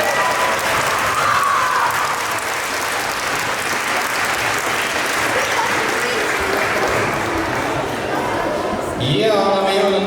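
Sustained audience applause fills a school dance competition hall, dense steady clapping with scattered cheers and shouts throughout, swelling slightly near the end as a voice breaks through.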